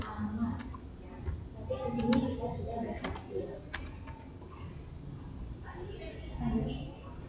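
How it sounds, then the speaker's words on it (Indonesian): Keys clacking on a computer keyboard as a show run command is typed into a Cisco device, light irregular clicks heard close under a man's speech. "Kita ketik show run."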